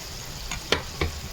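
Masala with ground cashew paste fries in oil with a steady soft sizzle, broken by two sharp clacks as a spoon stirs and scrapes the pan.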